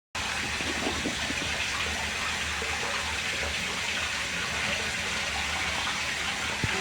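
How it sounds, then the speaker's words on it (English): A shower runs steadily as the water warms up, a continuous broad hiss of spray that stays even and close throughout with no voices. "the shower needs time to get warm"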